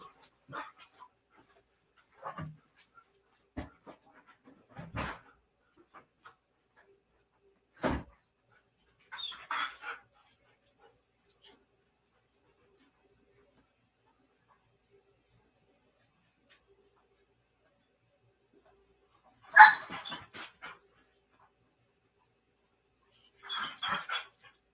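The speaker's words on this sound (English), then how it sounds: "Yeah, I gotta get my dog some water." Dog in a quiet indoor room, making scattered short barks, whimpers and panting sounds with long silent gaps between them.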